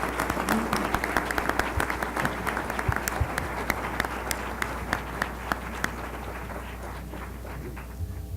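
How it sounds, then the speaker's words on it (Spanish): An audience at a book presentation applauds the speakers with sustained, dense clapping from many hands that holds steady throughout and thins slightly toward the end. "pedirles a todos un fuerte aplauso a los ponentes que han estado aquí presentes"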